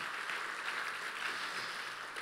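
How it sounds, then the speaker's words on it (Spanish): A church congregation applauds in a steady, even wash of many hands clapping. It sounds moderately distant and soft, with no speech over it. "Quiero que demos un gran aplauso por aquellos que se están casando en medio de la crisis."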